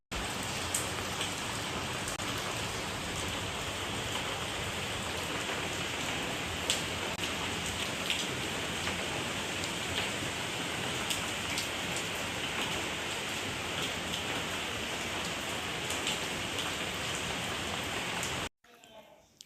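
Steady, heavy rain pours continuously for a long stretch, a dense even hiss of drops that cuts off sharply near the end.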